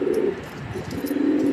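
A male racing homer pigeon coos loudly and repeatedly in a low, throaty rhythm, the calls close and continuous across the whole moment with no talking.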